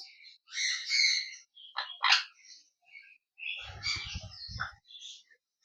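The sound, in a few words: sun conure parrots calling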